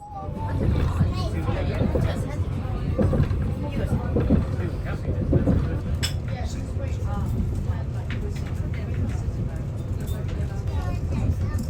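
Steady rumbling inside a moving train in Britain with continuous low mechanical noise, and people murmuring in the background.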